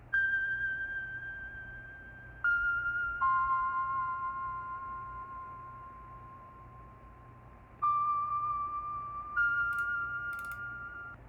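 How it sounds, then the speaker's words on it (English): Vibraphone notes in a music sample: about five struck tones ring out clearly and slowly fade, each new note entering after a gap of a second or more, with no talk. "I added some vibraphones in this part of the sample,"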